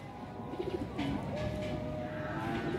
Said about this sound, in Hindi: चेक करें जरा कबूतर।